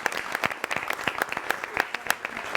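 A studio audience on a Spanish-language family talk show breaks into applause, a steady patter of many hands clapping for about two and a half seconds at moderate volume, with no talking over it.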